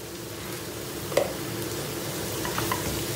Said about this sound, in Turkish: Bununla beraber de bir kavurma işlemine devam edeceğiz